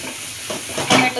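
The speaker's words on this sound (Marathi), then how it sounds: "आता हे छान असं मिक्स करून घ्यायचं." Turmeric and red chili powder are stirred into a hot pan for matar paneer, making a brief, close scraping and sizzling sound that swells near the end.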